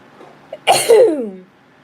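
A single close, loud sneeze from a woman, a short intake followed by a sharp burst that trails off, alone in a quiet room.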